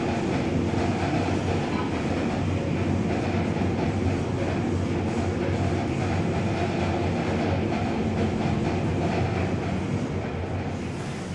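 An Otis Gen2 machine-room-less traction elevator in a Westin Hotel in Bellevue, Washington, runs its motor during a ride, producing a constant droning rumble and hum that holds steady throughout.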